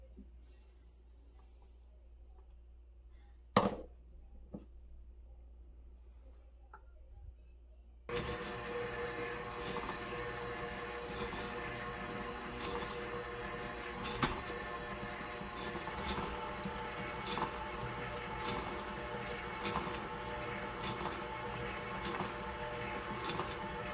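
A stand mixer beats butter and white sugar for cut-out cookie dough, starting after a quiet opening with a single click and then running as a steady, close, continuous whirring hum.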